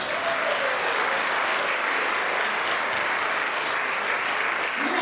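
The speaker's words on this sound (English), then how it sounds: "Let's give him a big round of applause." An audience at a school event fills the room with loud, sustained applause, a dense unbroken wash of clapping that holds steady throughout.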